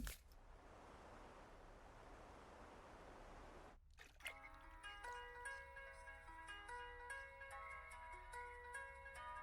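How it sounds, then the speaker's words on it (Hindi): A mobile phone ringtone plays a bright melodic tone sequence that starts abruptly after a stretch of running water or hiss and keeps ringing steadily at moderate level. "कितनी देर से रिंग बज रही थी"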